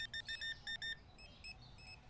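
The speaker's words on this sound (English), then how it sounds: "Beep beep beep beep beep beep beep." Supermarket Simulator checkout scanner in the video game: a rapid run of five or six sharp electronic beeps, then a few fainter chirps trailing off, with no voices over them.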